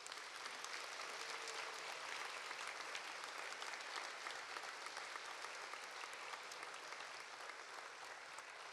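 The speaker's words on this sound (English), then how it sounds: "So please join me in giving them one more round of applause." An audience applauds at a high school academic awards night, with dense, continuous clapping that fills the hall from start to finish.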